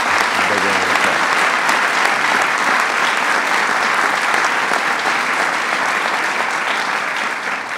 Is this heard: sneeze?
no